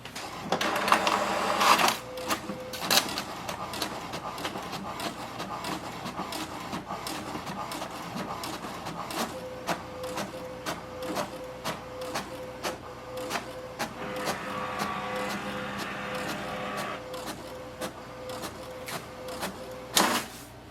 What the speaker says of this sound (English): Wait for the printer, it will print the alignment page.